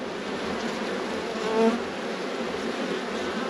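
A dense, steady drone of many honeybees buzzing at a rescued, queenless beehive, close and continuous, with one brief louder pass of a single bee.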